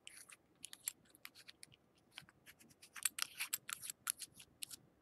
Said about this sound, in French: Si vous entendez que la cuve fait clac-clac, donc si vous entendez que la cuve se promène à l'intérieur